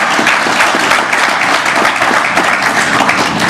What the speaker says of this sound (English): this, ladies and gentlemen, deserves a round of applause